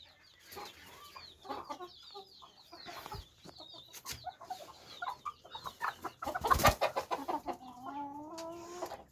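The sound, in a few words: chickens clucking on a farm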